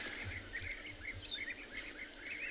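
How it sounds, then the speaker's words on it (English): A flock of birds high in a fig tree at sunrise gives repeated, high-pitched chirps in rapid bursts, faint and distant over a soft background hiss. "Can you hear that high-pitched chirping?"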